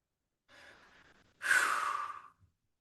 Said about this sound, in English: exhale gently out the mouth